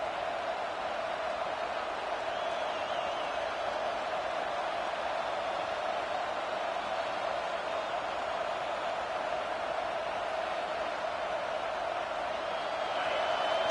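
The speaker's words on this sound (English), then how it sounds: "this crowd is fired up. Listen to this noise here" Roaring stadium crowd at a Clemson vs Georgia college football playoff game, a dense continuous wash of cheering that holds steady and swells slightly toward the end.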